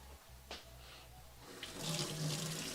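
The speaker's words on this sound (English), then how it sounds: "I should wash this knife." A kitchen tap runs water over a knife being rinsed at the sink, a soft, steady splashing stream that grows slightly fuller toward the end, heard faintly and alone.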